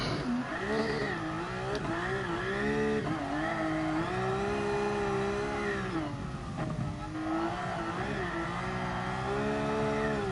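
A race car's engine in Gran Turismo Sport on the Nordschleife drift challenge revs steadily and loudly throughout, its pitch rising and falling as the throttle is worked and gears change, with no talk over it.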